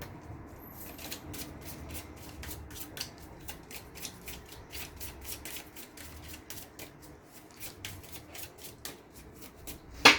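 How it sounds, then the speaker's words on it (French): Oracle cards being shuffled make a run of rapid, crisp riffling flicks close by, repeating steadily throughout with no talking. "on coupe et on va mettre les cartes ici"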